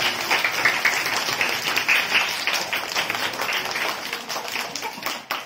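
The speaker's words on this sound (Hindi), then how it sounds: "ताली बजाओ।" Several people clap steadily for a small child who has just named five fruits, a close, moderately loud patter of applause lasting several seconds.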